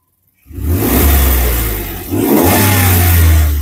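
A Suzuki DA17V 4x4 with a Triptonic setup revs up sharply after a brief silence, close and loud, dips for a moment, then climbs back into a steady, throaty roar with no talking.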